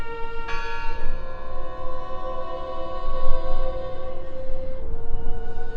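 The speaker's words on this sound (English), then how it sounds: "I heard the bell!" A bell tolls in the video game Draugen, one loud ringing strike early on whose bright overtones hum and decay slowly across several seconds over a low ambient rumble, with no talking.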